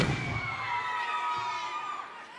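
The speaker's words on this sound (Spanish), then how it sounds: "Quiero una ovación y un grito fuerte ahora." A crowd at a Batalla de Maestros freestyle rap battle in Tierra del Fuego, Argentina, roars with loud sustained cheering and shouting, a thick, continuous ovation from start to finish.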